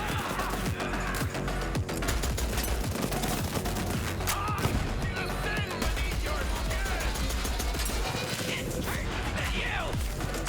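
Rapid gunfire in the video game Borderlands 3, dense continuous shots crackling loudly over busy game effects, with a voice talking underneath.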